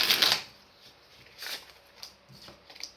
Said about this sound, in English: give this a little shuffle.